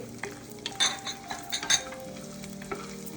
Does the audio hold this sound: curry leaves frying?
yes